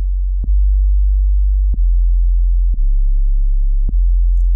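A deep, sustained 808 sub-bass tone with four short clicky retriggers spaced unevenly, low and loud, no voices.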